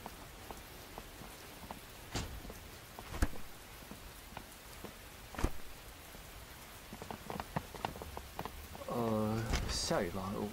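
Steady rain falling outdoors at night, a soft continuous patter with scattered sharper drops, moderately faint, while people talk over it.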